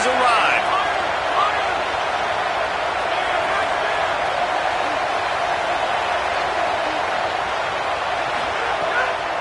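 Stadium crowd in an American football video game, a dense, steady roar that stays loud and unbroken throughout, with voices mixed in underneath.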